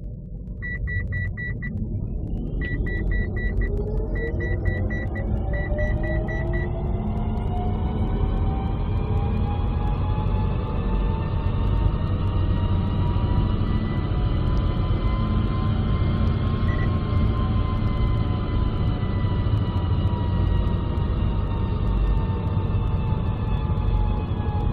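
A 2012–2016 Mitsubishi Outlander PHEV accelerates in pure electric mode, a steady, continuous hum with a whine that climbs in pitch as speed builds, heard from inside the cabin with no talking.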